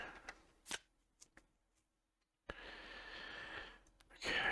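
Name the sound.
shuffling a deck of cards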